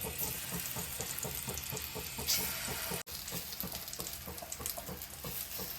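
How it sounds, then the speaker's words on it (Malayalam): Chopped banana frying in ghee, a steady close sizzle running throughout with rhythmic stirring scrapes and a brief dropout near the middle; no voices. "ഇനി അരിഞ്ഞു വെച്ച പഴം നമുക്ക് ഈ നെയ്യിലേക്ക് ഇടാം"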